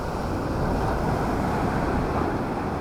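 Steady wind rushing by the shore at Real, Quezon, a constant low roar with surf blended in, unbroken for the whole stretch.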